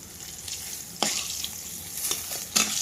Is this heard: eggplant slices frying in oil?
yes